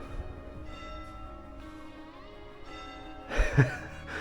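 Bells ring with sustained tonal overtones, fairly faint at first, then louder clangs toward the end.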